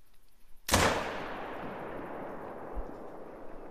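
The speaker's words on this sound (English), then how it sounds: "Maybe I can take one last shot." A single rifle shot fired at a wildebeest in a hunting video game: one sharp, loud crack followed by a long rolling echo that slowly fades, with a faint thump near the end.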